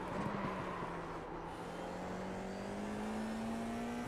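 A race car engine in the sim-racing game iRacing drones steadily at a high, even pitch. The pitch dips briefly as the driver lifts and brakes, then climbs slowly again, with no one talking.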